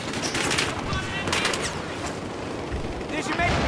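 Battlefield gameplay, where a fire grenade goes off amid rattling bursts of gunfire and crackling explosions. The noise is dense and continuous, with a voice talking over it.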